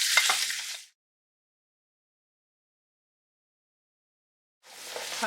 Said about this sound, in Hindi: हाई फ्लेम पर से इसको 1 से 2 मिनट के लिए यहाँ पे ज़रा थोड़ा सा फ्राई सा करते हैं